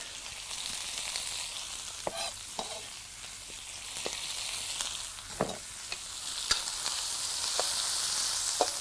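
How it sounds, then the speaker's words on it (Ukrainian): Onion sautés quickly in a pan over an outdoor campfire while cooking lecho, a steady hissing fry punctuated by scattered clicks and spatula knocks against the pan, fairly close and alone without speech. "Припускаємо цибулю. Дуже швидко."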